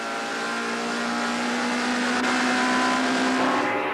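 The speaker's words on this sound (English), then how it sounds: "now it's race cam action from the Hilton Cowie Minolta Toyota Corolla" A 1998 Hilton Cowie Minolta Toyota Corolla touring car races at East London, its engine droning loud and steady from onboard as it runs up the beach straight toward the tight infield section.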